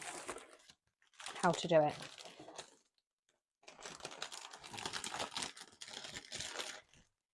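A roll of cellophane for wrapping a floral bouquet crinkles and rustles in two bursts of handling, crisp and close, between and under a person talking.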